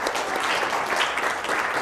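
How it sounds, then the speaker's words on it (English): Seminar audience applauds as a scientist is introduced, giving a brief, dense burst of steady hand clapping at even volume from a moderately sized crowd. "if we could give a round of applause for Nate Stephenson"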